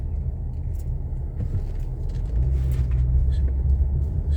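A car rolls at low speed through the Vicksburg Park and Recreation Area, its steady engine and road rumble close and continuous, swelling slightly toward the end with no talk over it.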